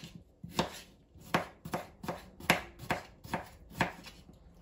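A knife chops through a cucumber on a board for a light spring salad, about eight or nine crisp, evenly spaced close-up strokes with soft gaps between them and nobody speaking.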